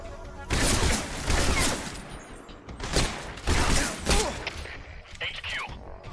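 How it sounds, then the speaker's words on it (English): Gunfire in the Metal Gear Solid 3 video game, loud bursts of rapid shots arriving in several separated volleys, with mechanical clatter and game effects between them. "Who's shooting me?"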